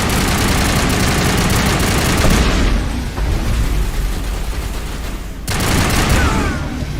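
Sustained gunfire in a Mass Effect firefight, a dense, continuous burst of weapon fire with engine-like rumble beneath, briefly easing midway before resuming at full loudness.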